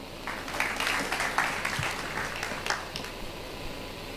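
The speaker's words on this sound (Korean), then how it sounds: "박수 부탁드릴게요" Audience applause at a venture forum as a Google manager is introduced, a soft, thin spatter of clapping that peaks early and fades out.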